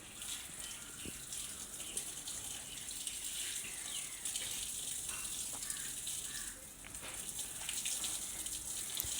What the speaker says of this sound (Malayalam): ചെടിക്ക് രാവിലെ മുറ്റമൊക്കെ തൂത്ത് ചെടിക്ക് വെള്ളമൊക്കെ നനച്ച്